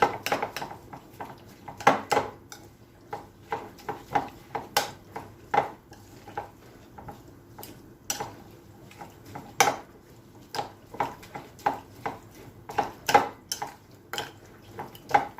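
Steady stirring of dried thyme through a mixture in a bowl, a spoon clinking and scraping against the dish in a repeated rhythm of close, sharp taps over quiet kitchen background.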